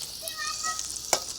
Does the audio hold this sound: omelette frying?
yes